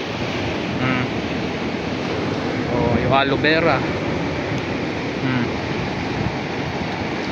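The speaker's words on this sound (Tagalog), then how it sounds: "grabe ang lakas ng alon" Strong ocean surf rumbles and washes steadily on a beach while a person speaks briefly over the wind-buffeted roar of the waves.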